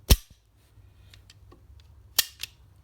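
A Lieferer 1001 .22 LR sport rifle is cocked by hand: its mechanism snaps hard with a loud metallic click, then faint handling clicks follow, then two more sharp clacks near the end, close up.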